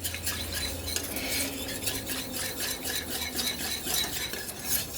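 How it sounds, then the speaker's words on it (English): Milk is whisked into a béchamel sauce in a pot, giving a fast, continuous rhythmic scraping and clicking of whisk on metal that stays close and even throughout, with no voices. "you want to whisk it all in"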